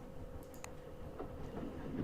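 A continental train running on rails in the game 80 Days, a quiet steady rumble carrying a faint hum and a few soft clicks, heard on its own.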